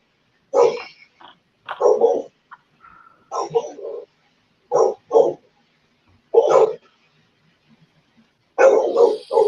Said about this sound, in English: And the dogs are barking too. My dogs are barking.